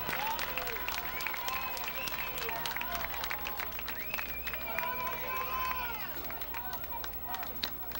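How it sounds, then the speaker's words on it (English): Crowd at a 2003 college football game between Augustana College and Wisconsin-Stevens Point in Stevens Point, Wisconsin, cheering and applauding steadily for the whole stretch, a broad roar with clapping and distant voices mixed in. "the crowd here is on their feet"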